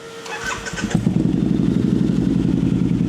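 A Harley-Davidson V-Rod motorcycle engine with fresh spark plugs cranks briefly, then fires into a loud, lumpy, rumbling idle that carries on close by.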